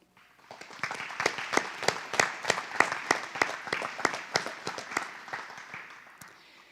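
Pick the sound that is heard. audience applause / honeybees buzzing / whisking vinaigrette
audience applause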